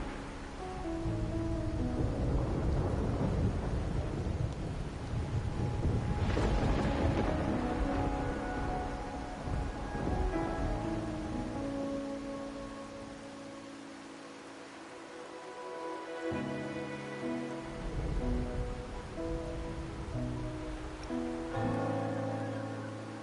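Rain falls with thunder, a broad steady hiss swelling into a heavy rolling rumble near the middle, then easing to a softer patter with low tones drifting in.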